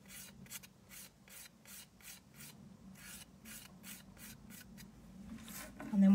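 A hand file rasps around the perimeter of a CND Plexigel nail enhancement in quick, regular back-and-forth strokes, about a dozen soft scratchy passes close up, with a brief louder noise at the end.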